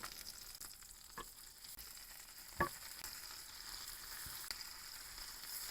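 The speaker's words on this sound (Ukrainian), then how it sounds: "І помішуючи, смажимо одну хвилину." Steady sizzling of pork ribs frying in a hot pan, with a few scattered clinks and scrapes of stirring over the constant crackle.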